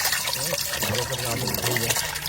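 Water pouring and splashing steadily into a container, close and continuous, with people talking over it.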